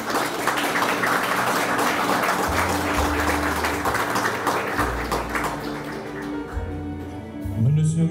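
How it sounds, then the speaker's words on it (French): An audience at a school inauguration ceremony for a new languages and arts building applauds warmly, a dense, loud, continuous wash of clapping that fades near the end as low tones come in. "je vous demanderai de vous applaudir très chaleureusement parce que vous êtes méritants"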